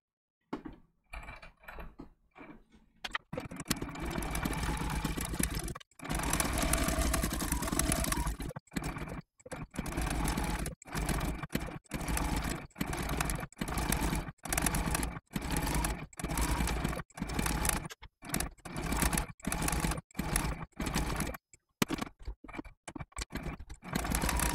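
Sewing machine stitching down a turkey appliqué for a quilt block with a lengthened stitch, running in steady mechanical bursts separated by short pauses, close and alone without talk.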